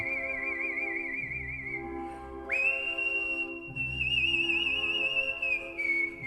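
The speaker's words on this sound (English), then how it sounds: "A professional whistler." A person whistles a sustained, wavering melody, clear and close, with a soft low accompaniment underneath; no talking.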